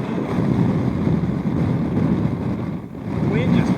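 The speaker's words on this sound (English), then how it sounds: "The wind just picked up." Strong wind blasts across a sand dune at Jericoacoara, Brazil, a loud, continuous buffeting roar against the microphone with gusty surges and no pause.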